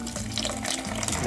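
Water pouring steadily into homemade nut milk in a kitchen, a continuous splashing stream heard close with a voice talking over it.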